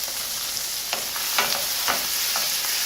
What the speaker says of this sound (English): We're going to allow this to saute briefly.